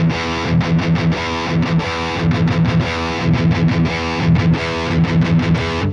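Distorted electric guitar through an amp simulator with a modern cabinet miked by a Dynamic 57, playing a tight, chugging rhythm riff with rapid palm-muted stops, loud and alone.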